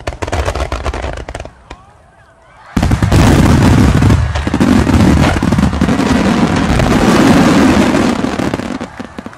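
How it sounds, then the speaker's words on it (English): Fireworks burst in rapid succession, loud and crackling, with a brief quieter gap before a dense barrage of booms and pops that continues almost without pause to the end. "And then we went from that little tiny firework to this."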